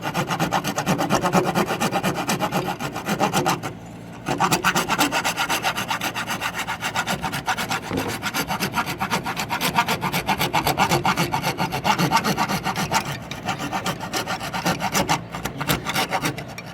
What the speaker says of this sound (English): take my little saw and saw it off.